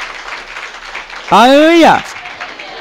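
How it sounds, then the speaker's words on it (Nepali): A congregation claps in thanks during a Nepali church sermon, a steady wash of hands that carries on under one loud, drawn-out shout from a single voice. "परमेश्वरलाई ताली बजाएरै धन्यवाद भन्नुहोस्।"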